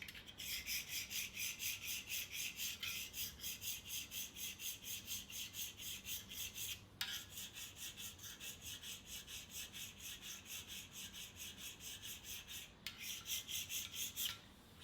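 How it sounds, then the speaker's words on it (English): Hand scraping on the bed of a Monarch 10EE lathe: a steady run of rhythmic rasping strokes, close and clear, broken by two brief pauses and then continuing at the same pace. "You can scrape the whole lathe bed, but it's hard getting a good finish on it."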